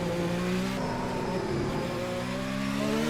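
A Ferrari SF71H Formula 1 car in Assetto Corsa screams at full power, its engine note steadily climbing and shifting pitch as it accelerates, loud, continuous and close, with no talking.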